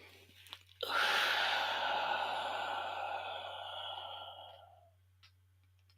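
A long breath pushed out through the mouth during 4-4-4 box breathing, a close, breathy exhale of about four seconds that slowly tapers off, with a faint click near the end.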